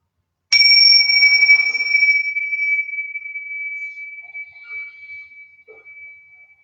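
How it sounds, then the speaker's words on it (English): A single bell is struck once and rings out clearly, its bright sustained tone fading slowly over several seconds in an otherwise quiet room. "So just ringing this bell and bringing us into presence before entering through these gates."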